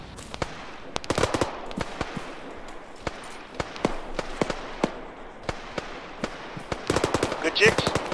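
Machine-gun fire in the video game Arma 3, with sharp bursts and single cracks spread irregularly throughout, growing denser toward the end, loud and close.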